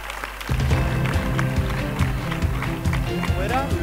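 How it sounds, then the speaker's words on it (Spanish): Audience at a secondary school graduation ceremony breaks into loud applause, with dense clapping mixed with music and a crowd voice over it. "Ahora sí, un fuerte aplauso."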